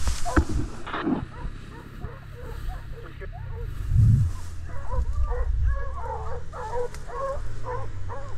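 Hunting dogs bark during a wild boar hunt outdoors, with a run of repeated barks in the later part heard through rustling and movement, moderately distant, while people talk at times.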